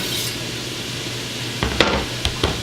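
Onion sizzling softly in a hot pan for firemen's chili, a steady low crackle with a few sharp clinks of a utensil against the pan near the end, no talking.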